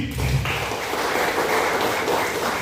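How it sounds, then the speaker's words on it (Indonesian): Audience applause at a community gathering in Sidoarjo, a broad steady patter of clapping hands that holds evenly through the short stretch, fairly close and full. "Tepuk tangan untuk GRIP."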